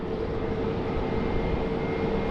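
Airplanes at Chhatrapati Shivaji Maharaj International Airport make a loud, steady engine roar that fills the whole stretch without any talking.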